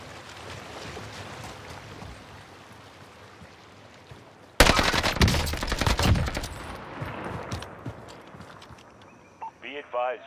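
Bursts of gunfire in the battle royale game Call of Duty Warzone, a loud sudden volley midway followed by scattered shots, with game sounds and a player's voice around it.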